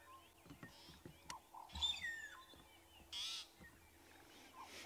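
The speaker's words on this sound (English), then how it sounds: "It is a magpie shrike." A young magpie shrike calling at sunrise on a very chilly morning, with a few clear whistled and chirping notes that carry at a moderate distance over a quiet outdoor background.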